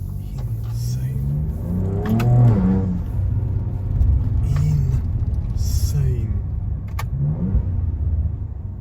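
A Ford Ranger Raptor rumbles while driving, its engine droning loud and close with rising revs under occasional cabin noise.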